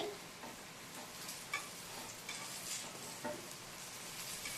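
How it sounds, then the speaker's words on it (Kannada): Brinjal slices fry in a lightly oiled pan with a faint, steady sizzle, broken by a few soft scrapes and taps of stirring. "ಇದು ಸ್ವಲ್ಪ ಒಂದು 2 ನಿಮಿಷ ಫ್ರೈ ಆಗಬೇಕು."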